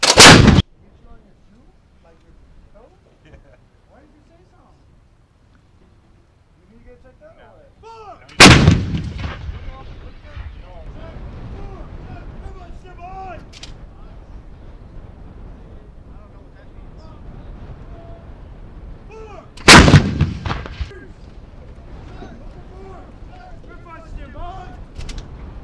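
Three deafening M777 howitzer live-round blasts at widely spaced intervals during field artillery training, each followed by a long rumbling echo, with shouted commands in the quiet gaps between.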